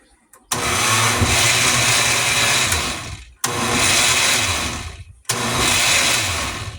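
An electric mixer beating melted butter into a mixture runs in three loud, close bursts, each a steady whirring drone that stops abruptly before starting again.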